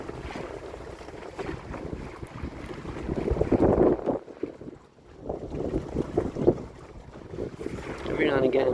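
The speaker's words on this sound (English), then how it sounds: "Here comes another gust now." Wind gust sweeping over a small 14'6 gaff-rigged sailboat at sea off Greece, a broad rushing roar that swells and fades with buffeting on the microphone and water sloshing against the hull.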